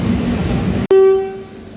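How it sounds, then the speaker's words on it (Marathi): An express train at a railway platform: broadband rumble and noise, then after a brief gap a loud, clear sustained tone like a train horn that fades slowly, alone with no talk. "परळीच्या प्लॅटफॉर्म नंबर 1 वरती आपली ट्रेन जी आहे ती आलेली आहे"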